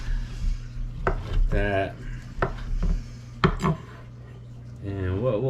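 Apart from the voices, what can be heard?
chopping pork sandwich slices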